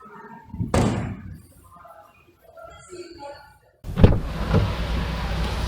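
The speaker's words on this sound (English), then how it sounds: "Shut the door. Okay, that doesn't sound bad, but it's not the best." A car door on a 2019 Kia Forte LX thumps shut once near the start, then the cabin goes quiet with faint rustling before a louder second impact and muffled interior noise.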